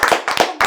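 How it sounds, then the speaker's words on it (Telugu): A few people clap their hands during an indoor interview, a short burst of sharp, close claps in quick uneven groups. "క్లాప్స్ కొట్టండి రా"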